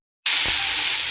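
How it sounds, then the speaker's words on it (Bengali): Saak greens with salt and turmeric start frying in a pan after a moment of silence, giving a sudden loud, steady sizzle and hiss that carries on without letup. "শাকটা আমার ভাজা হচ্ছে"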